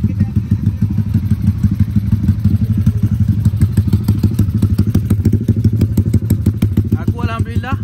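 Yamaha Y15ZR motorcycles ride over a potholed road, with a steady loud engine drone broken by repeated thumps and rattles from the bumps and a brief chirp near the end.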